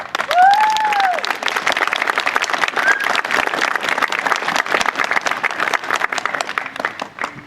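An audience at a theater play bursts into dense, sustained applause, many hands clapping at once with a brief whistle early on, the clatter holding steady before thinning slightly at the end.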